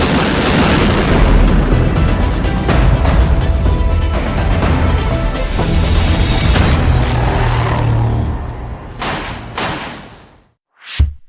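The S Defense Sabre, an Indian-made weapon, fires in a loud barrage of deep booms and sharp cracks that run densely for several seconds, then thin out and fade, ending with one last close blast.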